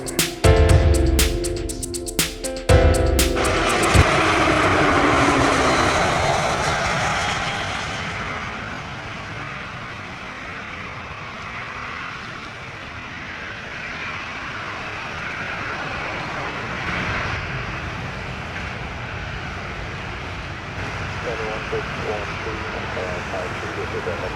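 A JetBlue airliner lands on runway 25 at Montego Bay, Jamaica, seen up close. A loud broadband engine roar rushes past early, then settles into a long, steady jet rumble and wind-like hiss that gradually fades.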